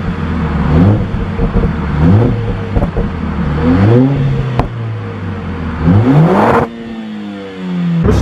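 Mercedes CLA45 AMG with a 390 HP engine revving in repeated sharp bursts, each rising then falling back, close and loud inside the cabin, before settling to a steadier drone near the end.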